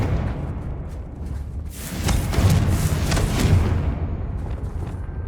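A Confringo blasting spell explosion in the video game Hogwarts Legacy swells into a broad, rumbling roar for a couple of seconds before easing back into low ambience.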